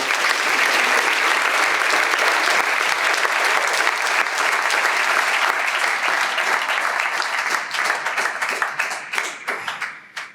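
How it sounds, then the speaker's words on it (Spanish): An audience at a church summer camp gathering gives a sustained round of loud applause, dense clapping that holds steady for several seconds before thinning out into scattered claps and fading away. "podemos darle un aplauso a ellos."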